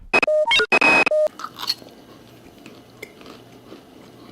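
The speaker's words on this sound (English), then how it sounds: "There's some kind of horrible grinding noise coming from the next area. It sounds like chewing." In the video game System Shock 2, a short burst of loud electronic tones and clicks opens, followed by faint, irregular wet crunching and grinding like chewing, soft and somewhat distant.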